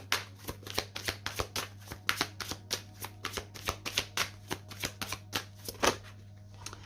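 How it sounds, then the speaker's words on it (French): Tarot cards being shuffled and handled at a reading table, a long run of quick, crisp flicks and riffles with a steady low hum beneath, fairly close, with no voices. "Alors, on va prendre une deuxième carte."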